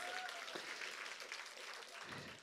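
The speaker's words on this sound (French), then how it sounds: "quand quelqu'un applaudit, tout le monde doit applaudir" A church congregation applauds during a Sunday morning service, with sustained, even clapping from many hands heard at moderate distance and fairly low level.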